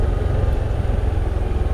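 A Honda CT125 Hunter Cub motorcycle riding up a slight incline on a country road, with a steady close engine drone and road rumble throughout.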